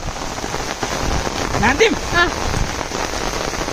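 Rain falls steadily on a surface, a continuous close patter running under short stretches of human voice and a brief vocal sound in the middle.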